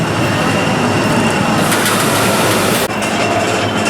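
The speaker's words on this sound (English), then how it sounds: "This train just came back into the station, and it's going to flip back into its load position." A roller coaster train at Kings Island rolls back into the station with a loud, steady rumbling and rattling of wheels on track, continuous and close, with a brief dip near the end.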